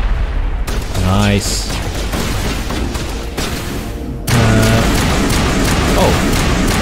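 Grenade explosion in the game Mass Effect, a sudden loud boom bursting in partway through amid ongoing gunfire and a dense battle din, with someone briefly speaking.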